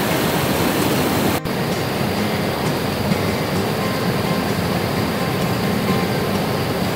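A small waterfall on a stream rushes with a constant, even wash of water, close and steady, with no talking.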